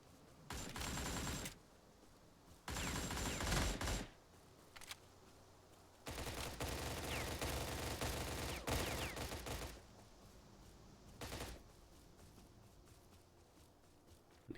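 Bursts of rapid automatic fire from an AN-94 Abakan rifle in a video game, several loud sustained volleys separated by quieter gaps, with a shorter burst near the end.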